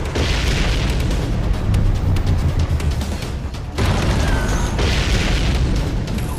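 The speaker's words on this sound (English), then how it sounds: "We seem to be witnessing a firefight on the perimeter of the White House." Heavy explosions and booming blasts from a firefight at the White House perimeter in a Guilty Gear Strive cutscene, a dense, continuous loud barrage with a sharp break midway before the rumbling resumes.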